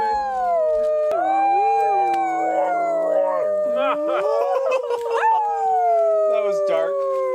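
Dog howling at a winter backcountry hot-tent campsite: long, wavering, sustained howls with several overlapping voices rising and falling, loud and close, continuing for the whole stretch.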